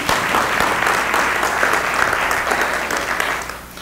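Conference keynote audience gives dense, sustained applause that stays loud and even, then begins to thin and fade near the end.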